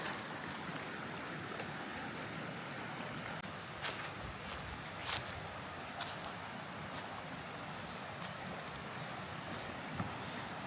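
Steady rushing creek water fills the clip, a broad continuous flow with a few brief clicks and knocks on top, no voices, during a creek crossing on Lostland Run Trail in Potomac State Forest.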